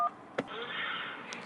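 A single telephone keypad tone for the 1 key opens an automated support call about an item left in a rideshare driver's car. The beep is crisp and very short and gives way to a steady hiss on the line.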